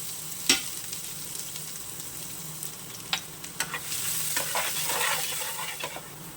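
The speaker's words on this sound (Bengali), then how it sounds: "এরপর এই তেলেই দিয়ে দিচ্ছে যে রসুন কুচি করে রেখেছিলাম রসুন কুচি" Chopped garlic sizzles in hot oil for a spiced pointed-gourd curry, a soft, steady frying hiss with a few crisp stirring scrapes, swelling louder in the second half; no voices.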